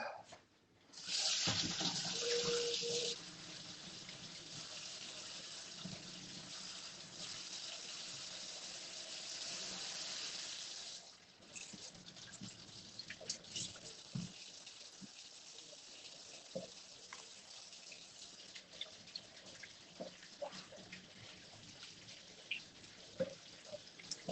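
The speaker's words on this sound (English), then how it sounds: "Give the veggies a good scrub." Vegetables are scrubbed under a running kitchen tap, a loud rush of water for several seconds that comes back after a short pause and then gives way to quieter dripping and scattered small clinks.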